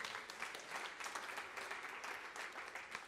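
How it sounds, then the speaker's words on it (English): Festival audience applauding at a talk on clouds and looking up, a steady, fairly faint wash of many hands clapping without a break. "Round of applause."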